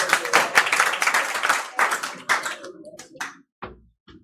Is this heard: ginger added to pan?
no